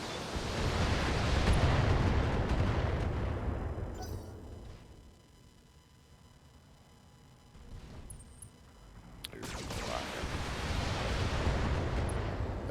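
Mech weapons fire and explosions boom in the BattleTech video game, with loud rumbling blasts that fade to a quieter lull before a sharp crack brings another heavy roaring wave.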